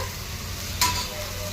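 Onions with coriander and mint fry in a pan for bagara rice, a steady close sizzle with one brief scrape of stirring midway.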